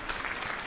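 Brief burst of audience clapping at an evening Hindi religious discourse gathering, a steady, fairly soft wash of many hands with no pause.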